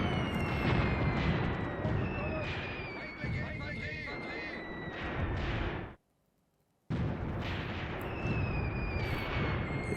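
Artillery fire in the war game Graviteam Tactics: Mius Front, booming blasts and rumbling bursts layered with whistling tones, loud and continuous until a sudden drop to near silence, then resuming.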